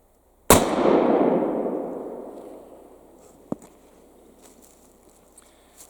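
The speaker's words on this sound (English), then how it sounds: "that was the first shot from this rifle musket in probably more than a century" A Colt M1861 Special rifle musket fires a single loud, sharp shot outdoors, its boom decaying over a couple of seconds, followed by a faint click and light handling noises.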